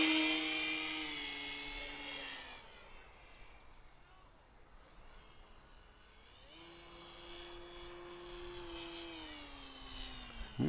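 A small electric motor on an E-Flite Pitts S-1S 850mm RC plane whines at a high pitch, rising as throttle increases, dropping off briefly, then climbing back to a steady buzzing whine near the listener.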